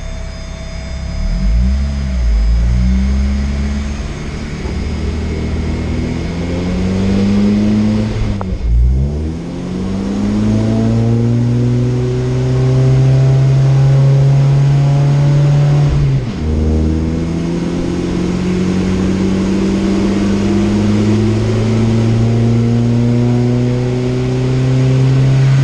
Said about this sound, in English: We're gonna get the dyno unloaded here,